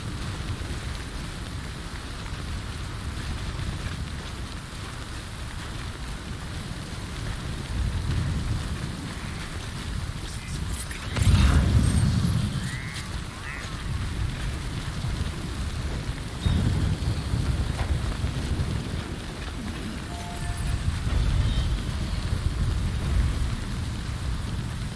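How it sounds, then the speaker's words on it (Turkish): Steady rain and rolling thunder in the video game Death Stranding, with a loud thunderclap near the middle over continuous rainfall and no talking. "Aa, yağmur başladı."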